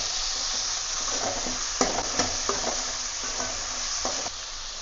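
Onions, tomatoes and garlic sauté in a pan for a bottle gourd spicy gravy, giving a steady close sizzle with a few spoon scrapes and stirring knocks on top. No one speaks.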